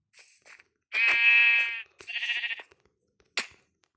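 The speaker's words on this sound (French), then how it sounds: "Il est où le mouton?" A sheep in the Minecraft video game bleats twice, a long, nasal, wavering call followed by a shorter one, set among faint clicks and taps in an otherwise quiet scene.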